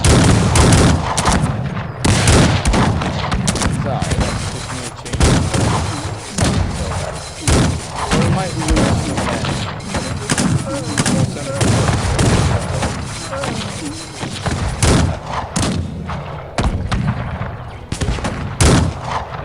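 Dense gunfire from a large force of Janissaries in the strategy game Cossacks fills the clip, with continuous loud volleys and thuds and no pause.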